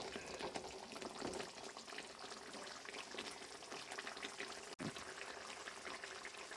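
Coconut milk boils steadily in a pan over the heat while virgin coconut oil forms, giving a continuous dense bubbling and crackling hiss with one brief dip partway through.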